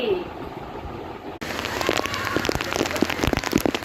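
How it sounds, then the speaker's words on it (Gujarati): Steady rain falls in Junagadh, a dense hiss with scattered sharper drips hitting a surface, starting abruptly after a quieter opening stretch and continuing fairly loud and close. "વરસાદ થાય તો નાવા ચોક્કસ બહાર નીકળીશ"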